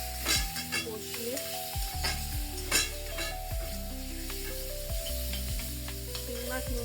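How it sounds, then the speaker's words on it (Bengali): Prawns rubbed with salt and turmeric sauté in a pan, a loud close sizzle with repeated clattering stirs and spatula scrapes, while music plays underneath. "এর মধ্যে আমি চিংড়ি মাছগুলো দিয়ে দেবো, আমি আলাদা করে ভাজবো না"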